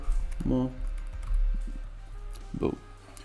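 Quick, light key clicks from a computer keyboard as a search term is typed, with a couple of brief voice-like sounds among the taps.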